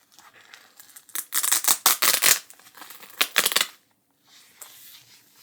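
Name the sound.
Velcro being opened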